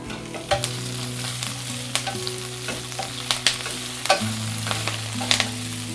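Spring greens frying in a pan, a steady loud sizzle with scattered crackles and pops throughout, alone with no voices.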